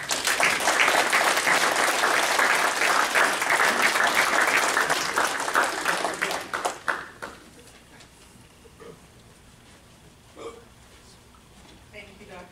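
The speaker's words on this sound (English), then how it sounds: "Let's give them a big round of applause." An audience at a graduation ceremony claps loudly for the graduating students, with some cheers mixed in. The applause fades out after about seven seconds and leaves a quiet room with a few scattered sounds.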